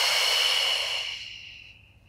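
Breathy exhale during a Pilates lower back exercise, a single long airy rush of breath that starts strong and fades away over about two seconds, close and alone.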